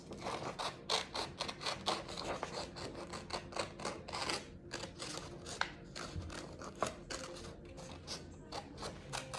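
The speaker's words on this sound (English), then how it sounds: "we're going to take our scissors and cut out our snout." Scissors cutting out a paper snout, a quick run of crisp, close snips in an irregular rhythm, each cut a short sharp crunch, with no talking over them.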